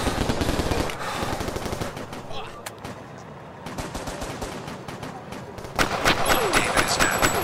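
Rapid automatic gunfire and single shots from a Crisis VRigade downtown shootout, loud and sustained throughout with dense bursts, mixed with game voices and effects and a sharper barrage near the end.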